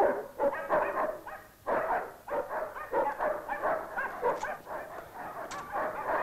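A small farm dog barks and yips repeatedly in uneven bursts, fairly close, with no voices.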